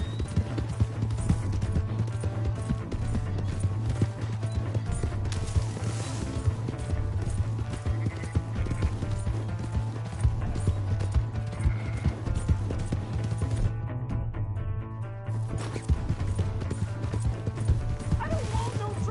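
Horse hooves galloping in Red Dead Redemption 2, a steady rapid clip-clop under loud game music and shouting voices, with a dog barking at times.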